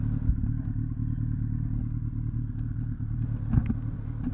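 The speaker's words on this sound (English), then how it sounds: "Today we're going to test ride this beautiful beast. It's 2008 Kawasaki ZX-10R Ninja." 2008 Kawasaki ZX-10R Ninja with a 998cc liquid-cooled inline-four engine, idling or rumbling at low revs with a steady, deep, close engine drone, a couple of clunks and light clatter, and no speech.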